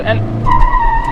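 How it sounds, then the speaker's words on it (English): A punchy car spins its wheels in first gear with the engine revving, giving a loud, close screech and roar. A voice talks briefly at the start. "that's the level of wheel spin on offer. That's how much it wheel spins."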